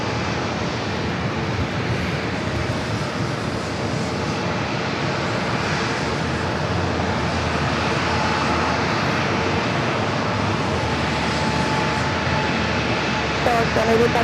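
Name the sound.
Southwest Airlines plane on the runway at San Diego airport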